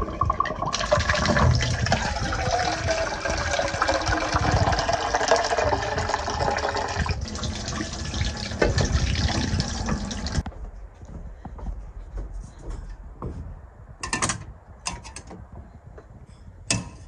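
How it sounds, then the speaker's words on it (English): Tap water runs hard and steadily into a drain at a backcountry hut, a continuous rushing pour that stops abruptly, followed by quieter clinks and small handling noises. "I'm just going to let some of the water go down the drain"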